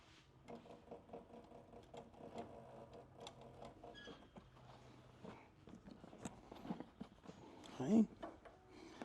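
Sewing machine stitching a leather duffel bag in a workshop, faint bursts of rapid mechanical stitching broken by pauses, handling noises and someone talking.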